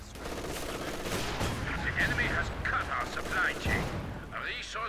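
Infantry rifles crackle in rapid, overlapping bursts during a Company of Heroes 2 match, the steady gunfire sitting under a commentator's continuous narration.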